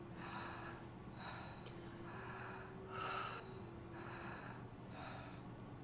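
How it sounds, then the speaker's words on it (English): Faint, close connected breathwork breathing: quick rhythmic inhale-exhale cycles, roughly one per second, running continuously without pause. "we focus on our inhale, relax the exhale, and then connect the breath"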